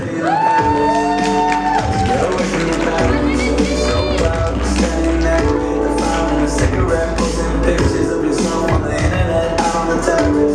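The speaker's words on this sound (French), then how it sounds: "On applaudit très fort la candidate numéro 3" Audience at a stage show contest cheering for contestant number 3, with sustained shouts, whoops and clapping from a lively crowd that stays loud for the whole stretch.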